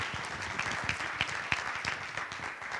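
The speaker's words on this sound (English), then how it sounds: "let's give a big round of applause for our panel today" An audience claps steadily for a panel at the end of a discussion, a dense, fairly close round of applause that holds at an even level without cheering.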